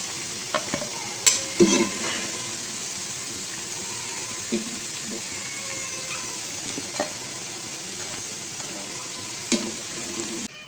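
Potato and spinach pakoras fry in hot oil while being turned until golden brown, a low steady bubbling hiss with occasional sharp clinks and scrapes of the utensil, no voices.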